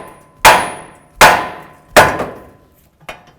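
Hammer blows on the steering knuckle of a 2008-16 Chrysler Town & Country to free the front ball joint: three loud, evenly spaced metallic bangs with ringing decay, then a lighter fourth tap, close up and alone.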